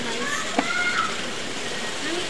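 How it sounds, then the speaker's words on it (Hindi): Heavy rain pours down in a steady, loud, even hiss that fills the whole stretch, with children's voices talking faintly in the background. "बहुत तेज बारिश हो रही है"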